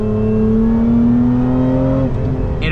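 Lotus Emira supercharged V6 heard from inside the cabin while driving: a loud, sustained engine drone with a rising supercharger whine that holds steady, then drops and shifts near the end.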